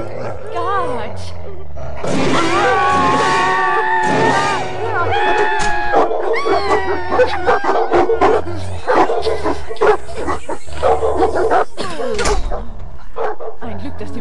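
A dog barking and growling loudly behind a rotten door in a Harry Potter parody, mixed with roaring, yelping calls and excited voices talking over it in bursts.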